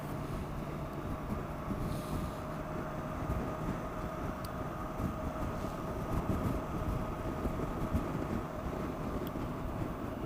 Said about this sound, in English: There's a lot of wind buffeting at the very top of my helmet.